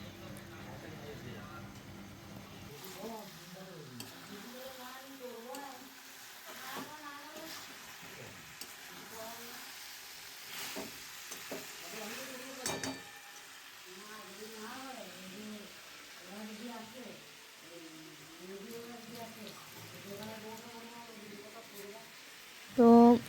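Low, steady sizzling and stirring of chicken being sautéed in a pan with fried potato runs throughout, with a voice talking over it.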